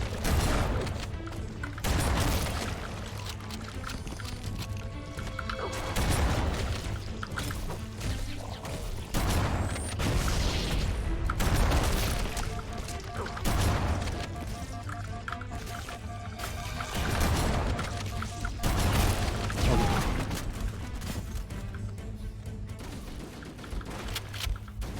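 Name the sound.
explosions and gunfire in a video game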